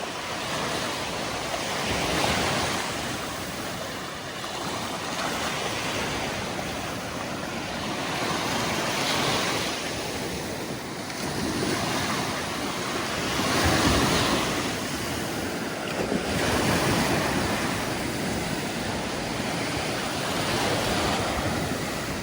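Black Sea waves wash onto a beach at Kurortne, Odesa region, Ukraine, in slow, regular surges under steady wind noise, loud and close, with no voices.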